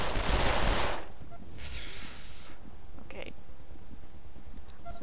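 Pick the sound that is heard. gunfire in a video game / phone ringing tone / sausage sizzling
gunfire in a video game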